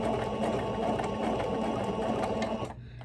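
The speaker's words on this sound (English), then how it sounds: "And you want to start sewing." Sewing machine stitching tutu socks runs loud and steady at close range for over two seconds, a fast rhythmic mechanical whirr that stops abruptly near the end.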